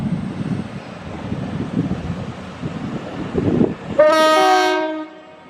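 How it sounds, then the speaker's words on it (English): An Avanti West Coast Class 221 passenger train bound for Chester rumbles into Crewe station, its approach rising steadily before a loud, sustained multi-tone horn blast cuts through and then fades out. "here comes the Avanti West Coast to Chester"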